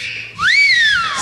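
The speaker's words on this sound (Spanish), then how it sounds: "Que venga el silbidito" A single clear human whistle, rising quickly then gliding slowly down in pitch, close and fairly loud.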